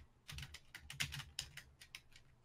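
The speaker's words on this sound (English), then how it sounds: "What are you typing?" Keys tapped on a computer keyboard in an uneven run of quick, light clicks, fairly close and soft, with no talking.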